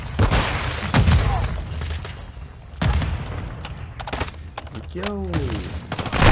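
Gunfire in a video game shootout: a few hard, booming shots spaced apart amid a steady battlefield din, with voices calling out over the fire.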